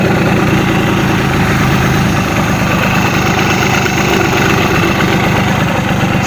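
A Simson S51 motorcycle engine idles steadily and close by, a loud, even low rumble with constant vibration that holds without a break and with no voices.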